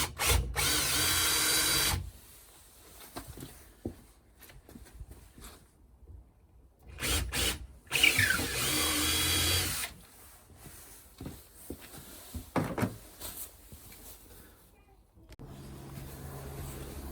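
A power drill bores through wood to pass a cable for an outdoor socket and rabbit-hutch heater: loud whirring bursts of a few seconds each, separated by pauses with handling clatter, and a person speaks in between.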